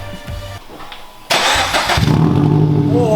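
A Toyota 86 boxer engine fitted with a Tomei UEL header and with the muffler disconnected cranks briefly, then catches and fires into a loud, close, raspy idle.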